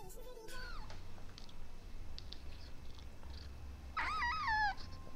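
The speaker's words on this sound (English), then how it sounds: "Look at the little cat." A small cat gives two short, rising meows, one at the start and a louder one near the end, with a soft low purr and quiet room noise between them.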